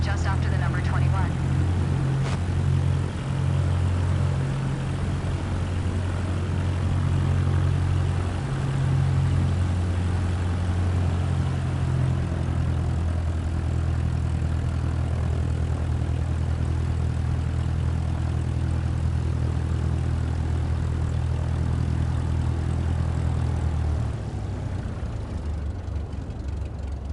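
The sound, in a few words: propeller airplane taxiing onto runway, Microsoft Flight Simulator video game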